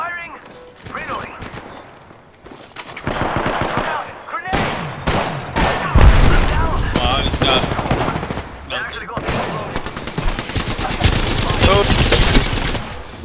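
Video game gunfire: rapid bursts of automatic fire and heavy shots, loud and dense, building into sustained volleys, with voices calling out over the shooting.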